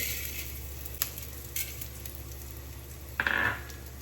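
Coriander seeds frying in a little oil in a home kitchen, a soft steady sizzle with a few brief stirring scrapes and one louder crackling burst near the end, no talking.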